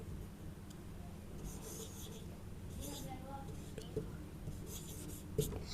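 A pen writes on paper or a board during a Class 6 maths lesson on basic geometry, with soft scratching strokes that come and go over steady room noise while a teacher speaks quietly.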